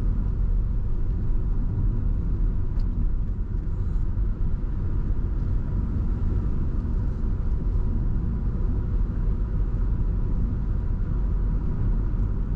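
Steady low engine rumble and road noise inside a car driving along the lakeshore section of Route 453 by Lake Shikotsu, constant and close with no talk over it.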